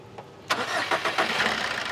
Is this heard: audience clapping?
no